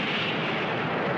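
A dynamite blast from the 1962 film King Kong vs Godzilla comes as a loud, dense, sustained rumbling roar that fills the whole short moment without pause.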